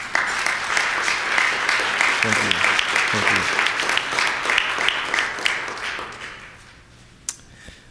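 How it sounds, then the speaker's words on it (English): Applause from an annual meeting audience, steady for several seconds before dying away, with someone briefly speaking over it and a sharp tap near the end. "I'd like you all to give them a round of applause."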